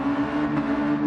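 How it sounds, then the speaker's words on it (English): Race cars in the Gran Turismo Mazda Touring Car Cup do handbrake burnouts at Dragon Trail Gardens, giving a steady, loud, droning engine rev held at one pitch. The sound is short and continuous, with no voices. "All the boys pulling handbrakes. Burnouts"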